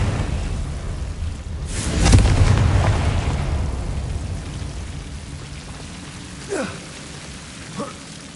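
A Confringo fire spell in a Harry Potter video game detonates as a booming blast with a long rumbling, crackling tail that fades out slowly, followed by a couple of fainter swooshing spell effects.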